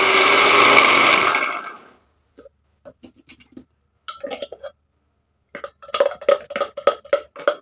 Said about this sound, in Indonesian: Nah kita blender aja dulu.